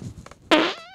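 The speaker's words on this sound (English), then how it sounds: "Holy shit, that was a long fart." A long, loud fart bursts out after a brief pause, sustained for nearly half a second with a buzzy, trailing tone before fading, heard close up in a podcast studio setting.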